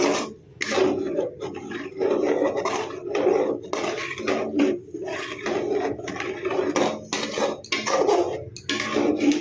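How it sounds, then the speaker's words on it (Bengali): A spoon or spatula stirring a thick sugar mixture in a pan for para sweets, steady rhythmic scraping and rubbing strokes against the metal with short pauses between them, close and alone. "অনেকক্ষণ ধরে নাড়াচড়া করতে হবে এরকমভাবে যেন লেগে না যায়"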